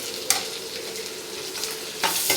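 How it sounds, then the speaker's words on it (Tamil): Garlic sautés in oil with asafoetida for garlic pickle, a steady near sizzle punctuated by two sharp stirring clatters, with nobody speaking. "நல்லா வதக்கி விட்ருங்க பூண்டு நல்லா பெருங்காயத்தில் நல்லா வதக்கணும்"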